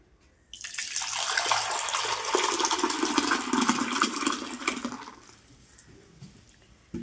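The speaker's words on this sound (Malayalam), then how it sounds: "ഇനി അത് നമുക്ക് പാത്രത്തിലേക്ക് ഒഴിച്ചെടുക്കാം" Spiced buttermilk (sambharam) poured into a vessel in a kitchen, a steady liquid splashing and trickling that starts abruptly, runs for about four and a half seconds, then fades out, with no talk.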